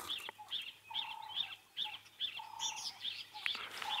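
Wild birds call during a morning safari drive, with a repeated series of bright chirping notes at a steady rhythm, clear and fairly close, alongside softer whistled calls and a low background hum.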